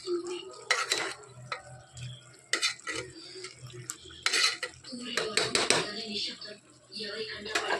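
Metal spoon stirring tomato into chicken biryani in a pressure cooker pot, repeated clanks and scrapes in an uneven rhythm with soft sizzling beneath, close up, while someone talks.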